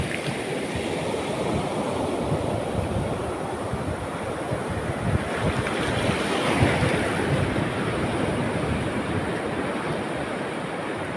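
Ocean waves rolling and churning in a continuous dense wash, with wind rumbling against the microphone, steady and close with a slight swell midway.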